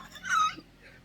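A brief, breathy high-pitched mew from a person imitating a cat, soft and close.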